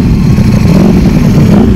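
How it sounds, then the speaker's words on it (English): A Ducati motorcycle engine revs loud and close during a group ride, a dense, continuous low growl filling the short moment with no speech. "We're getting all revved up."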